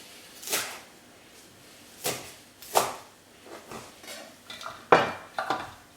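Coriander coarsely chopped with a knife on a board, a handful of sharp, separate chops and knocks spaced unevenly, close by with no talk.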